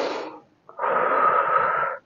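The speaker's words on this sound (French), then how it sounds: "Prends une petite respiration" A breath drawn in during a calm French-language women's podcast: a brief airy sound, a short pause, then one long, steady, close inhale lasting over a second.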